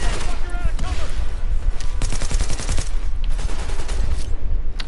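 Dense bursts of automatic gunfire from The Division video game, loud and near, with rapid volleys and overlapping shots running throughout amid game effects.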